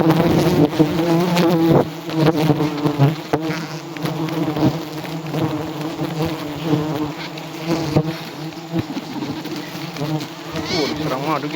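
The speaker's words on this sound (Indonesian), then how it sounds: "Saya dikerubungi lebah banyak sekali." A swarm of stingless honey bees buzzes thickly and close during a wild honey harvest, a continuous loud drone of many wings with no one speaking.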